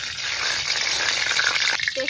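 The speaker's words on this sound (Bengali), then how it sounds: "তেলটা গরম হয়ে গেছে, ফোড়নে দিয়ে দেব গোটা গরম মশলা," Whole garam masala sizzles in hot white oil in a kadai, a steady bright crackling hiss running throughout with a brief clatter near the end.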